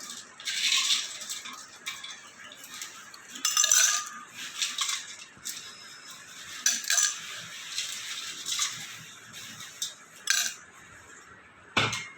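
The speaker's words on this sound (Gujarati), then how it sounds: "પહેલાં આવી રીતના ગ્લાસ લઈ એમાં આઈસ ક્યુબ નાખશું" Ice cubes clink and rattle as they are dropped into a glass for a spinach sherbet, several bright separate clatters spread out over the stretch, close and fairly loud against a quiet room.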